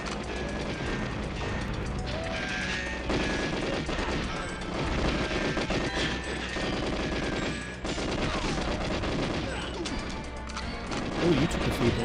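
Gunfire in the N64 shooter GoldenEye 007, with repeated shots and crashes going on steadily under constant game noise and music. The volume stays fairly even through a busy, dense firefight.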